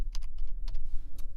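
A computer keyboard being typed on, a short burst of several quick clicking keystrokes in an uneven rhythm, close and clear over faint room hum.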